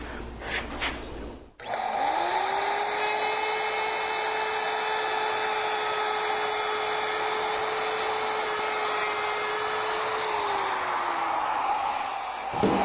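A bearing-guided router cuts wood for a knife caddy, starting abruptly with a loud, steady high whine that holds for about ten seconds before dropping in pitch as the cut ends.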